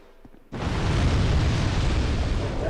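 A wall breaking apart in the video game Dark Souls 2: after a brief quiet moment, a sudden loud crumbling roar bursts in and sustains as a dense rumbling collapse.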